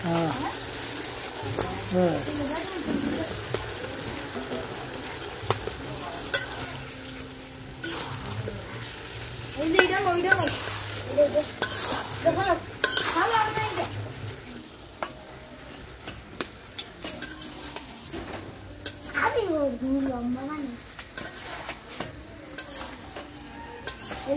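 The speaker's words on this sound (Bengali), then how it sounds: "এখন দিয়ে দেবো ওই যে ইলিশ মাছের মাথা ভাজা" Hilsa fish head frying with broad beans in a village kitchen pan, with continual sizzling and repeated clanks and scrapes of a metal spatula against the pan while people talk over the cooking.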